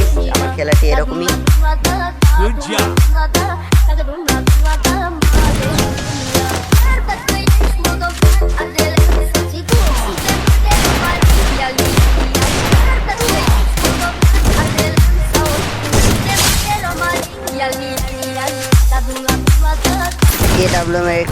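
Gunfire rattles through a Free Fire match, dense bursts and single AWM and Desert Eagle shots cracking loudly and continuously over game noise, with a voice talking at moments.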